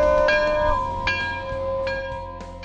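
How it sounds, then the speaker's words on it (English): A bell rings out in several struck tones with long ringing decay, clear and fairly loud, with no talking. "Somebody ring the bell."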